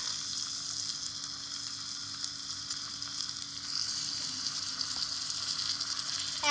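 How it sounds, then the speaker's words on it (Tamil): Chicken sautés in a tiny pan over a small fire in a miniature kitchen, a soft, even sizzle that runs on steadily with faint stirring scrapes. Low background music hums underneath. "ஆட் பண்ணிட்டு இதையும் நல்லா வதக்கி விட்டுக்கலாம்."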